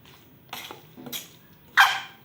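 A hot kawali frying pan is set down on a table, giving three short clunks and scrapes close by with quiet in between.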